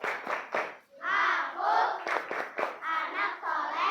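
A group of children chants the Indonesian clapping rhyme "tepuk anak soleh" in a classroom, their voices shouting in rhythm with bursts of hand claps and an adult leading.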